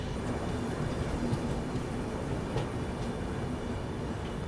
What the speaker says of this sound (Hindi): फाइनली अब अराइवल हो रहा है अपना तीतलागढ़ रेलवे स्टेशन पे